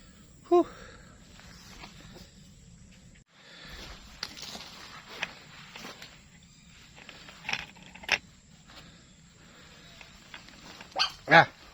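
A dog barks sharply a few times at scattered moments, some barks nearer and louder, with quiet background sounds and faint voices in between.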